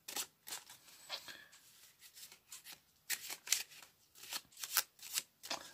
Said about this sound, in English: So basically it's just a bottom retention shuffle.